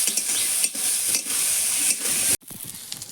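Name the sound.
frying ground bottle gourd seeds in a pan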